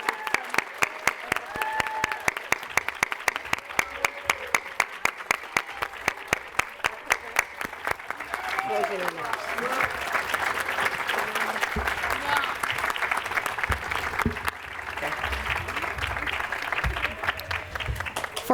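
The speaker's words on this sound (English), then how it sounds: "let's give our graduates a round of applause" At the 2023 Ocean County Achievement Center graduation, the audience applauds the graduates. It begins as a few loud, evenly spaced claps, then swells into dense, sustained applause filling the room, with some voices mixed in.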